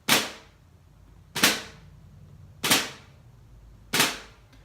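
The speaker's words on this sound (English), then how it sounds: "So that'd be the right flam." Four separate right-hand flams are struck with drumsticks on a drum, each a sharp crisp crack with a quick decay, evenly spaced about one and a half seconds apart.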